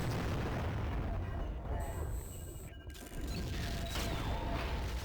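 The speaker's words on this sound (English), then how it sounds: "I saw a mortar coming in." Mortar shells from the Tribes 2 video game boom and rumble amid a dense, roaring wash of battle noise, with a brief sharp burst and mechanical clanks partway through.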